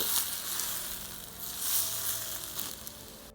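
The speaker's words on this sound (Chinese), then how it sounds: "放上辣椒粉、花椒粉、葱花，浇一勺滚烫的热油" Scalding hot oil poured over chili powder, ground Sichuan pepper and chopped scallions on noodles in a bowl gives a loud, close, steady crackling sizzle that surges in a few bursts over a few seconds.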